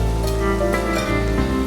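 Chicken pieces deep frying in hot oil for a Chicken Schezwan dish, a steady dense sizzle and bubbling that runs close and continuous throughout, with no talking.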